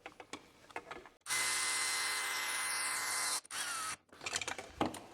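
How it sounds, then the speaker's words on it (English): A power tool tightens a lock nut on a DIY laser alignment rig with 3D-printed parts, whining steadily for about two seconds, pausing briefly, then whirring again, with light handling clatter before and after. "Obviously, it is a lot easier to do this with a power tool."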